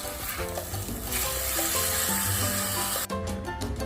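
Minced meat is stirred and fried in a hot pan for Goan croquettes, giving a steady close sizzle with scraping spatula strokes throughout and a short pause near the end.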